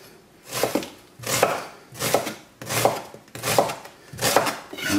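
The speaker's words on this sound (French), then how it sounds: "émincer les oignons." A knife slices onions on a board in six evenly spaced bursts of rapid chopping strokes, close and crisp, with short pauses between each run and no talk.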